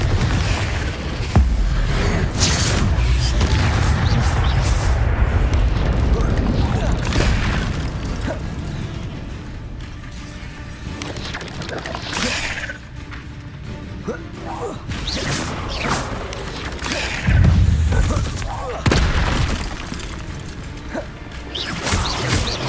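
Spell blasts and crashing impacts from Confringo fire spells cast in Hogwarts Legacy, a burst of smashing and whooshing hits repeating over a steady game backdrop.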